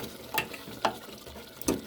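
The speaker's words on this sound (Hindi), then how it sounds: "हम इसको भूनेंगे।" Mutton korma with yogurt fries in a pan, giving a soft continuous sizzle. Three brief, sharp scraping strokes of stirring mark it at even intervals.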